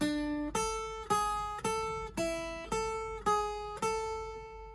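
Guitar picking a beginner lead exercise, a steady run of eight single plucked notes on the upper strings at an even pace, each ringing briefly before the next, close and clean with no voices.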